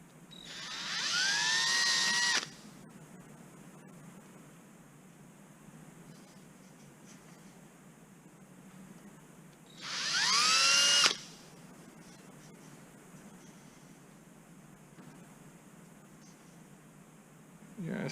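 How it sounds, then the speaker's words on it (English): A power drill drives a reamer through a hole in an aircraft elevator spar on an RV-14A kit build, two short whirring bursts about eight seconds apart, close and fairly loud over a quiet shop hum. "I'm going to go ahead and ream that hole, and obviously the opposite hole also"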